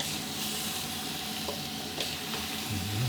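Catfish stir-frying in a hot pan, a steady broad sizzle running throughout with a few light clatters of stirring and turning near the end.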